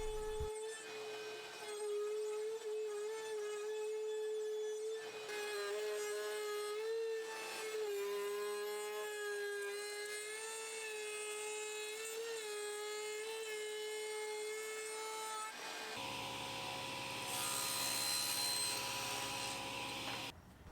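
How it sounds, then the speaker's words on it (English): A router cuts grooves into cocobolo and curly maple boards for a chessboard frame, a loud, steady high-pitched whine that holds for the whole stretch with slight dips in load and a rougher cutting tone near the end. "I routed these grooves in the sides of the boards as well as the sides of the frame pieces."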